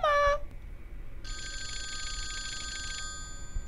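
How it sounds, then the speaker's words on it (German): Telephone in a horror video game ringing with a bright electronic trill that sounds continuously for about two seconds over a low ambient drone, after a brief sharp tone at the start. "Telefon!"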